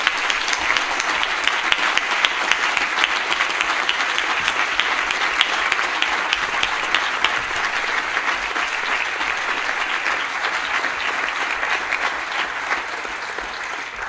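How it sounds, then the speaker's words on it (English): An audience at a partnership celebration between Schoodic Institute and Acadia National Park applauds federal employees with loud, sustained clapping that holds steady for the whole stretch and eases only slightly at the end. "I want you to join me in a round of applause for all of our federal employees who are here."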